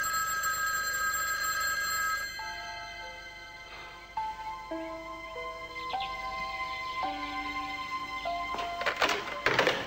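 A telephone rings unanswered, its bell-like tones sounding repeatedly in a shifting pattern over a low background hiss, with a few thumps and clicks toward the end and no voices.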